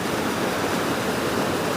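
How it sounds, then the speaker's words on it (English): A mountain gorge waterfall roars in a steady, dense rush of white-noise-like water, loud and unbroken with no voices over it. "Hopefully you can hear us over the noise of the waterfall."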